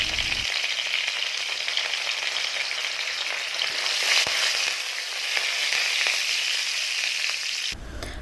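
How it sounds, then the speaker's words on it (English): Mustard seeds, cumin seeds and curry leaves frying in hot oil in a pan, giving a loud, continuous close sizzle with fine crackles that runs unbroken for several seconds before a sudden cut. "Once they splatter, add 2 to 3 strands of curry leaves and saute for a few seconds"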